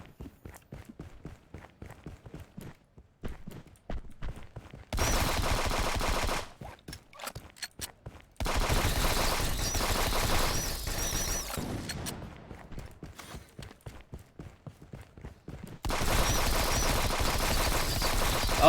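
Rapid bursts of gunfire from vampire bullets in a video game, firing in sustained loud stretches of a few seconds each, separated by quieter gaps with sparse clicks and footstep-like taps.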